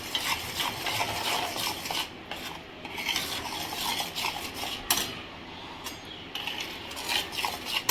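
Jaggery mixed with cashew, almond and pistachio powder and dry ginger, stirred by hand in a pan off the heat, giving a steady close scraping and rubbing of spoon against metal throughout, with no talk.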